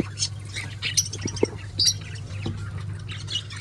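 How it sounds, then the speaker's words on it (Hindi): A caged quail gives several sharp, short squawks and chirps over a steady low background hum, fairly close and moderately loud. "ये हमारा बटेरा, ये देखें"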